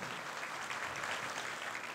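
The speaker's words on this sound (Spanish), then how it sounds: "Lo recibimos con un fuerte aplauso." An audience at a family values awards evening applauds warmly, a steady, fairly faint wash of many hands clapping with no talk over it.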